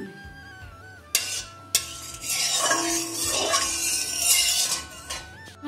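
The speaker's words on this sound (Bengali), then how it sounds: "কড়াইয়ের মধ্যে দিয়ে দিচ্ছি সর্ষের তেল। এবারে এর মধ্যে আলুটা ভেজে নেব।" Metal utensil clanks and stirring scrapes in a wok as potatoes go into hot mustard oil, a few sharp knocks followed by a quieter, steady frying hiss underneath.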